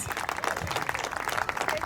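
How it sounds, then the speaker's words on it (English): Parents and guests clap for preschool children's performances at a school annual day celebration; the applause is dense and steady but fairly quiet and distant. "Let's give our little ones a thunderous applause for their amazing performances."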